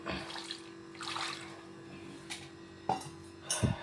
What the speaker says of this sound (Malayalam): ആവശ്യത്തിനുള്ള വെള്ളം ഒഴിച്ചു